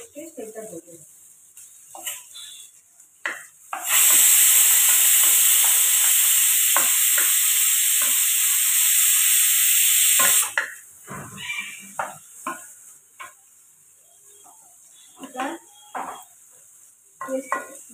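Onions frying to a brownish colour in a pan on a gas stove, a loud steady sizzle lasting several seconds, with scattered clinks of stirring and someone talking before and after.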